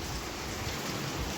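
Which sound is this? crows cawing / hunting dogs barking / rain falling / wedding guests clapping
rain falling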